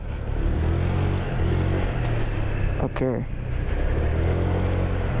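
A Honda Vario 125 scooter engine drones steadily while riding a lap on a wet track, with continuous road and wind noise. Someone says a short word briefly over the engine.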